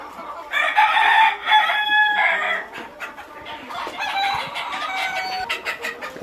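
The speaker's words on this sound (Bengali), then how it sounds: "এটা হলো নতুন শেডে মুরগি রেখেছি কিছু" Chickens in a new poultry shed cluck and crow together in a busy, overlapping chorus of bright calls. The noise is loudest at the start, then continues steadily and somewhat softer.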